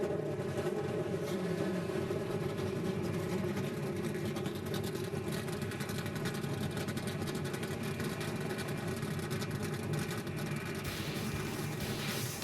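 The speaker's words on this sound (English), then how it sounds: "Drivers, start your engines." NASCAR truck engines at Gateway Motorsports Park rumble together in a dense, steady roar of many idling and revving motors, loud and continuous throughout.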